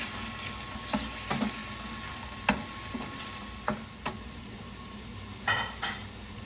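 Italian sausage and peppers sizzle softly in a pan as a spoon stirs them, making a faint steady hiss broken by a few scattered light taps and clinks.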